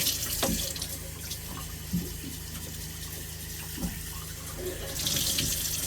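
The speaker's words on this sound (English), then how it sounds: "So Chris shaving and washing his hair, doesn't want to wait for the solar shower." Steady running water pours and splashes close by as someone washes their hair at a beach, with occasional soft knocks and shifts of the stream; no talking.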